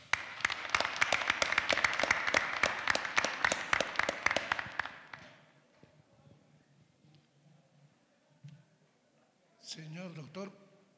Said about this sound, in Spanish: a quien lo recibimos con caluroso y fuerte voto de aplausos.